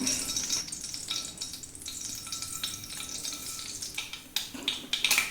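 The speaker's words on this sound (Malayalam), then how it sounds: "എണ്ണ ചൂടായി കഴിഞ്ഞ് കടുകിട്ട്," Mustard seeds hit about three tablespoons of hot oil in a kadai on the stove, giving a continuous crackling sizzle with scattered sharp pops and spits that build toward the end, heard close and without voices.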